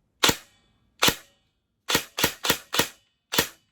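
A G&G ARP9 airsoft gun with an upgraded motor fires seven sharp single shots in an uneven rhythm, each crack close, loud and clipped with a brief tail, with silence between shots.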